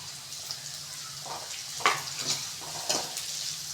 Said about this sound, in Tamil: பூண்டு போட்டு நல்லா வதக்கிக்கலாம்